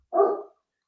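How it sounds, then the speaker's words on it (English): A single short dog bark, close and fairly loud, cut off quickly with silence afterward; the dog has run outside in response to a doorbell. "So my dog went out really quick and is barking."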